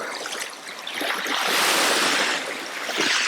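Ocean waves wash up and then pull back down a calm winter beach, the broad hiss of backwash swelling and fading at close range, with no voices.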